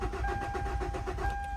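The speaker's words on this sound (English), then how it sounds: "As you can see, the car is not starting." A 2012 Hyundai Elantra engine cranks without catching after accident repairs, the starter giving a steady rhythmic churning close by, alone with no talk.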